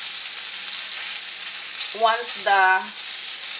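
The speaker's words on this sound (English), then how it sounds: "I'm browning the last batch of my beef" Beef for a creamy mushroom beef stew browns in a pan with a steady, close sizzle throughout, while a voice speaks briefly partway through.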